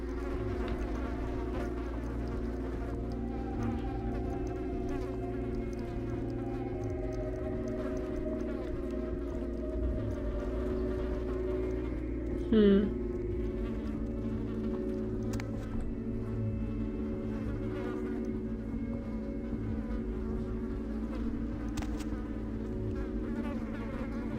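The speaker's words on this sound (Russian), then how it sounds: "Почему вдруг пчелы? Или мухи, или кто это вообще летает?" Steady insect buzzing, like bees or flies, in the video game Vampire: The Masquerade Bloodlines, droning continuously over a low ambient hum, with a brief brighter blip partway through.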